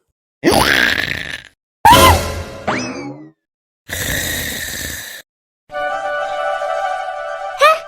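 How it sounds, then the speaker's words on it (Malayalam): An animated cartoon character snores loudly, like a bear. Four heavy rasping snore bursts come one after another, each with a groaning, wobbling rise, close and separated by brief gaps. "നിന്റെ അങ്കിളിന്റെ കൂർക്കം വലിക്ക് ശരിക്കും കരടിയുടെ അതേ സൗണ്ട്"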